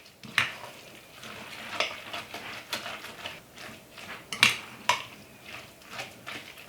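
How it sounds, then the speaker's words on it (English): A spoon stirs salt, pepper, sage and garlic into a spaghetti squash mixture, scraping and clinking against the bowl in an uneven run of close, moderately loud strokes. "And then give this a really good stir."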